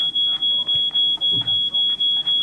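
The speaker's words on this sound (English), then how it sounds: "can we just switch off that alarm?" An alarm in the escape game She Could Fly beeps insistently, a high steady tone pulsing about four times per second, with faint talk underneath.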